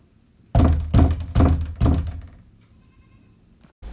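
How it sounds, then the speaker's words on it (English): Four heavy knocks on a door, used as a stage sound effect in a performance of Macbeth. The thuds are loud, booming and evenly spaced, and a low rumbling tail fades out after the last one. "Whence is that knocking?"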